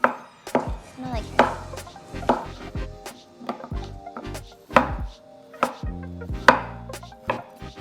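A knife chops imitation crab on a cutting board in sharp, close, irregular knocks, with roughly a dozen distinct cuts and short pauses between them.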